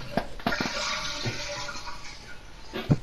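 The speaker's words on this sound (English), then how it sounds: "That was a flush." A toilet flushes nearby with a steady rushing, gurgling wash of water lasting about three seconds, broken by a few soft knocks and thumps.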